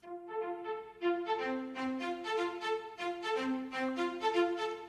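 High cello layer from the Novo strings library played alone, a simple repeating melodic figure of bowed notes with a soft attack and clear sustained tones, moderately quiet with no talking.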